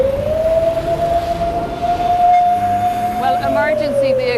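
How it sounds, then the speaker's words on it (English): A wailing ambulance siren from emergency vehicles racing to pick up casualties in Lebanon, loud and close with a slowly rising and falling tone over traffic rumble. "We've counted at least 10 ambulances coming up and down the road, going to pick up casualties"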